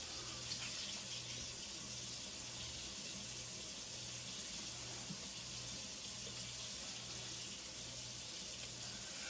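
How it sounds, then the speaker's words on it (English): A kitchen tap runs steadily while hands are washed at the sink, a constant close hiss of flowing water with no voices. "Wash my hands pretty quickly."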